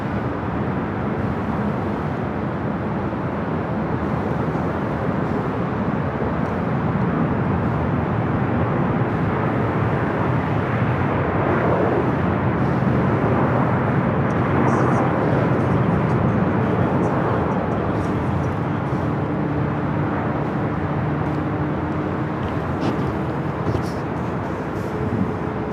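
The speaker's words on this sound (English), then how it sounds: "this is flight 8 coming in from Tokyo, Haneda. It's a Delta A350-900." A Delta Airbus A350-900 jet arriving at LAX from Tokyo Haneda, heard as a steady broadband roar that stays loud through the whole stretch and swells slightly midway, as if passing fairly close.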